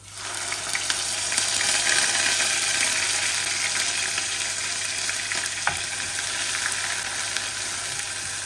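Chicken pieces frying with blended onion in a pan, a loud continuous sizzle that holds steady for several seconds, with no talking.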